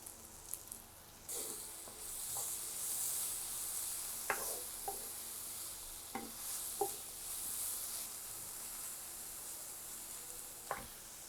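Grated carrot fries quietly in oil in a pan, a soft continuous sizzle punctuated by several light clicks and scrapes of a spatula, with no talking.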